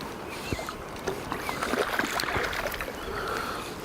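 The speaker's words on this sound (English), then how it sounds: "Yep, that's him splashing in the water." A freshly caught fish splashes in the water beside an angler, making irregular sloshing and dripping splashes at close range, with a steady wash of water movement underneath.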